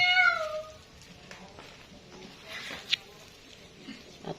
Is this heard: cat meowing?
yes